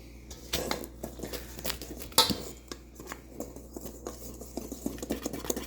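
A whisk stirring chocolate cupcake batter in a bowl, with quiet irregular scraping and tapping strokes, one sharper clink midway, close up and otherwise soft.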